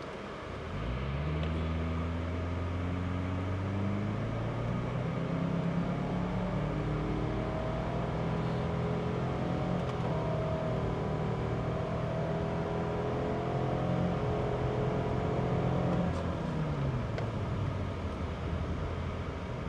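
A car with a Pedal Commander throttle controller in Sport Plus mode accelerates hard from inside the cabin, its engine drone climbing steadily through several gear shifts in a continuous, loud pull.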